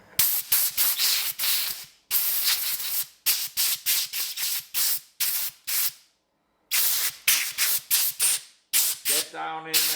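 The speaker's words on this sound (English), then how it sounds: "Let me get my air hose now." Compressed air hose blasting out a gun action while cleaning it, heard as a long run of sharp, close hissing bursts with short gaps and one longer pause, and a faint tonal sound at the very end.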